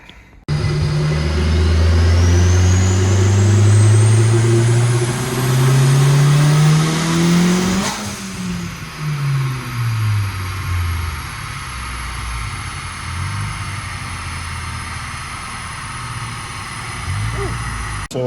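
Tuned turbocharged Nissan Juke engine revving hard through a power pull, pitch climbing steadily for about eight seconds before lifting off, then settling into lower uneven revs with brief rises; loud and close, no talk.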